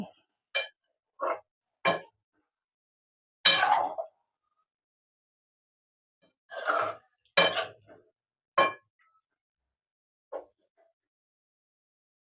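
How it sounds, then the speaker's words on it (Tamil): Scattered metallic scrapes and clinks of a utensil stirring chicken chukka in a cooking pot, spaced out with quiet gaps between them. "கிண்டி வச்சுக்கோங்க"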